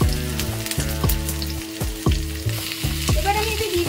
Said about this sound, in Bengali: এবার আমি এতে দিয়ে দেবো কেটে রাখা উচ্ছে গুলো, দিয়ে ভালো করে আমি একটু লাল লাল করে ভেজে নেব।